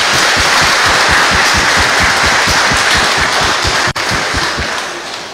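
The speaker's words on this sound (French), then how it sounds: "Je vous demande de les applaudir encore." Rhythmic group clapping in a church after a choir sings at a Sunday Mass, loud and sustained with an even beat, tapering slightly toward the end.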